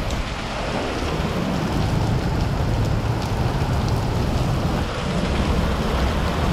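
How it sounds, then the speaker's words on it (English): Hail pelting down outdoors at a car dealership during a storm, a dense, steady roar of rattling impacts that stays loud and unbroken throughout, with no voices. "All right, we have hail."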